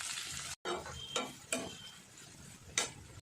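Chopped tomatoes and green chillies stirred into softened onion in a pan for a Kerala-style egg curry, giving a soft, quiet sizzle broken by several sharp scraping strokes of a spoon against the pan.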